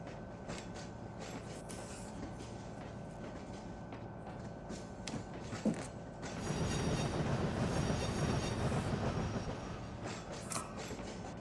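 Simulated train in the Trainz railway game on an Indian Railways route, rumbling steadily with wheel creaks, then growing louder and denser from about six seconds as it speeds up, with no talking.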